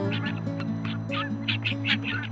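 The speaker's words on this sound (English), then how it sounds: "the birds are chirping now" Ducks and geese quacking and honking repeatedly around a homestead in the morning, several birds calling in quick bursts over a steady low hum, fairly close.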